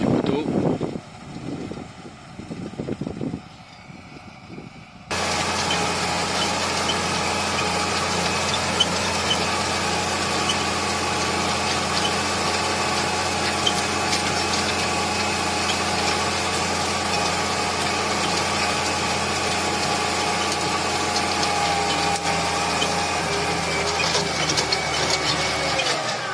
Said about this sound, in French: on voit bien les disques qui grattent bien à l'avant